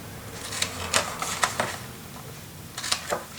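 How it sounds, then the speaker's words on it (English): Scissors snip at an angle through a paper hinge on a handmade mini album, giving a handful of short, crisp cuts in uneven bursts, close and fairly quiet. "Grab the scissors. So we cut a little angle"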